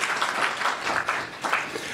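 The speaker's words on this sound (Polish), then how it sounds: "Brawa dla pana redaktora Rachonia." An audience claps for a journalist at a panel on Polish-Russian relations, a short burst of brisk, rhythmic applause, fairly close and lively, holding steady through the moment.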